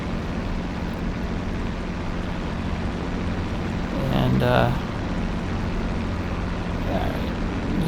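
A P-51D Mustang sits warming up in DCS, its propeller engine droning steadily, then swelling briefly in a short rev before settling back to the same even roar.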